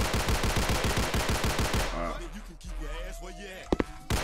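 Rapid bursts of video game gunfire ring out in a steady, evenly spaced rhythm for about two seconds, then stop. Quieter game sounds and a couple of sharp thumps follow.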